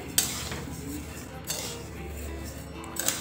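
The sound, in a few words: dry-roasting rice in a pan over low heat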